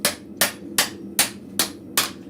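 Steel hammer blows land on a flattened steel piece at the anvil of a blacksmith forge, six sharp ringing strikes in an even rhythm about every 0.4 seconds, close and clear with no talk.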